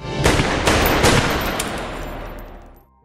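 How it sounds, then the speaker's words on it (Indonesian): Gunshots fired at a wall in a film scene, heard as a few loud, sharp blasts close together. Each blast rings out into a long reverberant tail that gradually dies away, with no voices. "ternyata Charlie hanya menembakkan senjatanya ke tembok"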